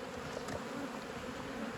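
Honey bees buzz at an opened hive in a steady, close, continuous drone with no voices.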